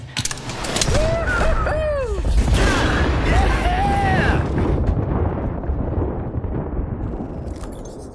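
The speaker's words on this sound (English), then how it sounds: "Dropping the grenade." A grenade goes off in the Apex Legends video game, a loud, booming blast with rumbling debris that rolls on for several seconds while voices call out over it, then fades.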